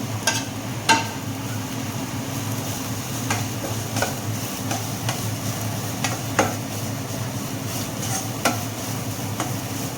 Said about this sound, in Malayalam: അതിലേക്ക് നമ്മൾ അരപ്പ് അങ്ങോട്ട് ഇടുകയാണ്